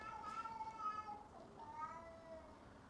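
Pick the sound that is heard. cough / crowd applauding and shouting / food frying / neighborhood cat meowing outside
neighborhood cat meowing outside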